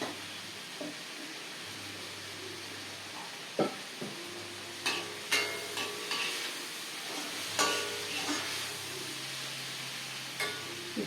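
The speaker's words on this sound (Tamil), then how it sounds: "இப்போ வந்து தேங்காய் வதங்கி நல்லா வதங்கி" Grated coconut sautéing in a pan for a broad bean and carrot coconut curry, a soft, low sizzle broken by scattered spoon scrapes and light taps against the pan, close by with no talking.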